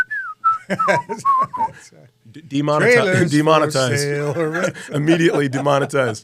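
A person whistles a short, wavering melody of a few clear notes, then voices break in with lively talk and laughter that dominate the rest.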